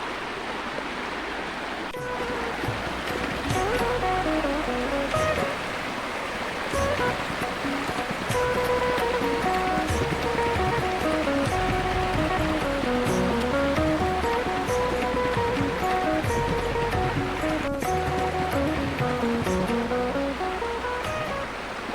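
A river swollen with water after the season's first monsoon rain rushes steadily, a continuous broad roar of flowing water with occasional faint tones and clicks over it.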